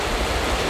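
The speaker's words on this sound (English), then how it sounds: "I was waiting for the waves to become stronger" Ocean surf breaks steadily on the shore at an outdoor beach portrait shoot, a loud, continuous wash of crashing water with wind noise and no voices.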